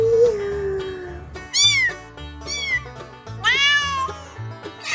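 A small child mimics a cat, producing several high, drawn-out meows of varying length, close and clear, with brief pauses between them.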